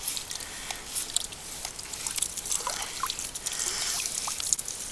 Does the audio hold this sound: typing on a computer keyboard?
no